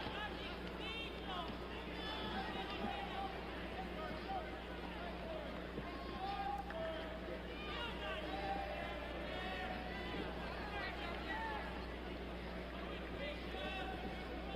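A boxing crowd at a Sugar Ray Leonard fight makes a steady, dense roar of yelling and chatter that stays constant throughout, with a commentator talking over it.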